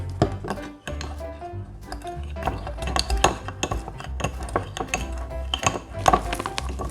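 Donut flour and water being stirred in a bowl, busy clinking and scraping of a utensil against the dish in quick irregular strokes, close and fairly loud, with no talk.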